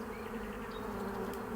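A swarm of honey bees buzzes densely and continuously at an apiary, a close, steady mass of overlapping wingbeats with no talk.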